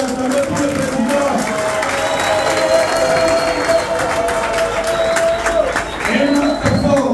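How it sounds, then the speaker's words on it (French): Dense crowd noise from an audience at a political gathering in Kinshasa, DRC, clapping and cheering for a movement's president, a steady loud wash of applause and shouts with a voice carrying over it. "acclamez pour le président."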